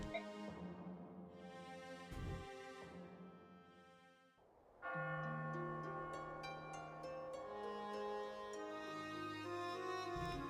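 Bells chime in the Fire Emblem: Radiant Dawn video game, sustained ringing tones that fade, then a fuller peal of layered bell strikes rings out, loud and alone.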